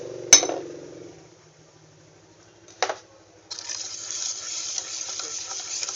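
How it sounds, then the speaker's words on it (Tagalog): Spoon clinking against a metal bowl while macaroon mixture with condensed milk is stirred, with a sharp clink at the start, another knock midway, then a steady, close scraping swish of stirring. "Halo lang ng halo."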